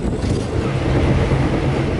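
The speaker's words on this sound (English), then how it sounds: "It was a smooth ride when the train left Tumpat." East Coast Shuttle train pulling out of Tumpat station, a steady low rumble and rolling rail noise heard from inside the carriage, smooth and continuous.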